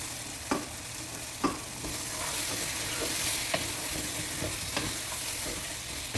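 Chopped tomatoes and capsicum fry in a pan for Arabic-style chilli chicken, a steady loud sizzle broken by a few sharp scrapes and clacks of stirring, no talk.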